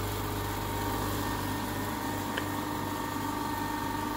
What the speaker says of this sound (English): First is the old type compressor.